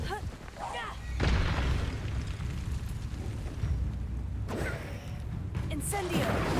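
A fire spell cast in the video game Hogwarts Legacy, heard as a deep whooshing roar and rumbling boom that keeps going, with a burst that swells and further crackling blasts near the end. A voice calls out over it.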